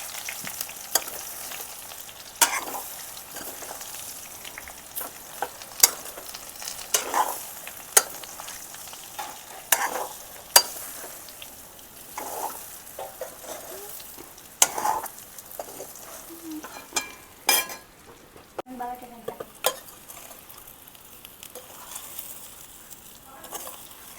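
Dhokla pieces and patra tossed together in a pan with curry leaves, giving repeated scraping stirs and light crackles over a soft sizzle, close and moderately loud, with no talking.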